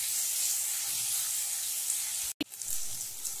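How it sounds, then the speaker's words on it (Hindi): Onions fry in oil in a pan for dahi aloo curry, a soft, even hiss of sizzling that is cut off sharply for an instant before resuming at the same low level. "प्याज को हम गोल्डन ब्राउन होने तक तेल में भूनेंगे"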